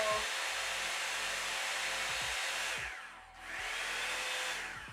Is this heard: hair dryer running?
yes